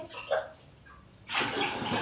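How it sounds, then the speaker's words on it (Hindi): Water poured onto washed lentils (dal) in a pot, a steady splashing pour that starts after a brief pause, following some faint earlier sounds. "अब हम इसे पानी डाल देते हैं।"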